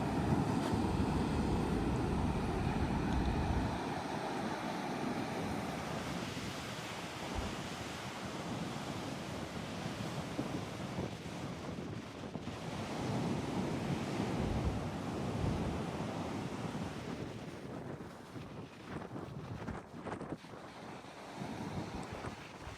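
Pre-storm ocean surf rolling onto a beach, a steady loud wash of breaking waves with heavy wind buffeting the microphone throughout, no voices.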